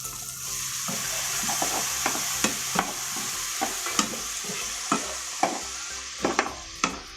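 Tilapia fish steak frying in a pan with soy sauce added, a steady sizzle under repeated sharp clinks and scrapes from stirring, alone with no talk.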